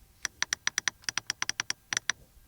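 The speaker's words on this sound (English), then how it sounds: "First of all, here then, the AC unit, still menu, clicking sound." Buttons on the air-conditioning panel of a Mercedes SUV clicked in quick succession, about fifteen crisp, close, light clicks in an irregular run with no talking.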